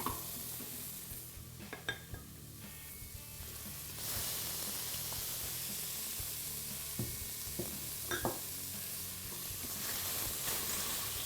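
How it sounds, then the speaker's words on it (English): Shrimp sautéing with lightly browned shallots in a pan, a soft continuous sizzle that swells louder partway through, with a few scraping stirs and clinks, close and fairly quiet, no speech. "Saute up these shrimp"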